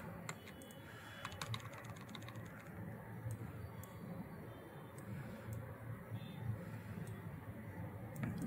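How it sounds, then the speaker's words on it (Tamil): Someone types on a computer keyboard at an office workstation during government eOffice software training. Faint, scattered key clicks sit over a low background hum, with no talking. "ஸோ இப்போ நான் டைப் பண்ணுறேன்"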